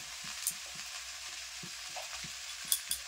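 Chow mein stir-fries with sauce in a pan: a steady soft sizzle under a quick, regular rhythm of spatula strokes, with a few sharp metallic clinks.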